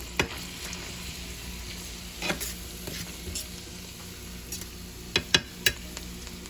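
Garlic and butter fry in a pan for a vegetarian spinach, basil and tomato pasta, a steady close sizzle broken by a few sharp crackles and stirring scrapes, with no talking.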